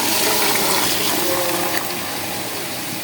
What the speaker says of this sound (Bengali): আমি এখন গরম পানিগুলো ঢেলে দিলাম।